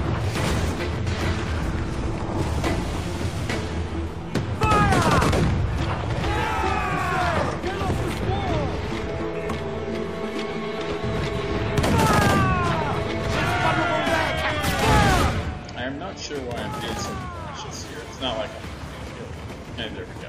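Cannons fire during an attack on a fort in a video game. There are several booming shots, bursts around the middle and again later, with whistling projectile sounds and mechanical clatter over a continuous game soundtrack.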